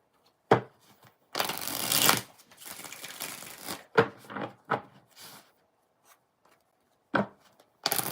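Tarot cards are shuffled by hand in separate bursts of riffling and sliding, with soft knocks and pauses between the shuffles, close and fairly quiet.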